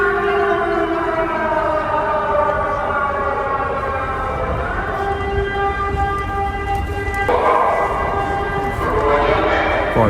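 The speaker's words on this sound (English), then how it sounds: "This is my first time hearing an air alarm, hearing a siren in Ukraine." A loud, sustained air raid siren in Ukraine wails continuously, its rising and falling tones layered and droning throughout, with no talking.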